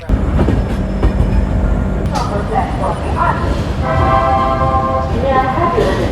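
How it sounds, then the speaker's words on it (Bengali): Puri Garib Rath Express pulling into Kharagpur Junction station: a steady rumble of railway carriages with wheel noise and brake squeal toward the end, people talking over it throughout. "আমাদের ট্রেন এই মুহূর্তে এসে দাঁড়ালো খড়গপুর জাংশন রেলওয়ে স্টেশনে"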